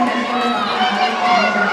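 Loud, sustained roar of a crowd cheering at a high school girls' volleyball game during a senior honoring, with voices yelling over a steady wall of noise.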